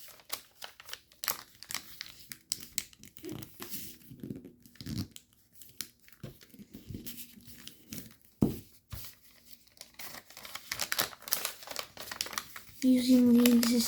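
Paper being folded into origami fighter jet wings, giving close, intermittent crinkles and creases with scattered handling noises and quiet talk throughout, and a brief tonal hum near the end.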